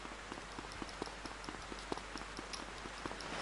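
Rain falls in the GTA San Andreas video game, a soft, steady patter of scattered drops over a low hum. It stays faint and even throughout, with no voices.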